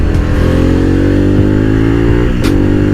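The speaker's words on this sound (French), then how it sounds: "Là c'est une Harley pas comme les autres." A Harley-Davidson Pan America 1250 adventure motorcycle accelerating, its engine loud and close with a steady rising drone and a gear change partway through, no talking.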